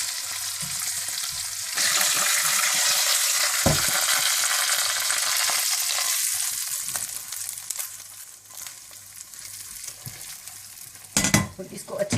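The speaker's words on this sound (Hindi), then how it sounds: "अब आप इसे दाल पे डाल दें।" Hot tarka of cumin, garlic and green chillies poured onto moong masoor lentil dal, bursting into a loud rushing sizzle that slowly settles, with a few clinks of a utensil near the end.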